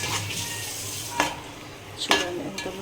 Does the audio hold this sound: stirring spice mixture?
yes